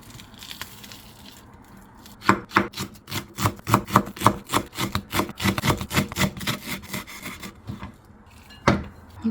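A kitchen knife rhythmically slices rolled green onions into thin strips on a cutting board, a run of quick close taps and scrapes that pauses, then resumes briefly.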